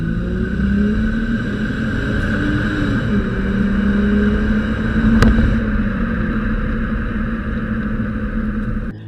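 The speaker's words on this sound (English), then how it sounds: "it produces some very nice exhaust notes" A 1996 Toyota Aristo engine rumbles loudly and continuously with a low note from its factory dual exhaust, rising slightly in a brief rev near the middle.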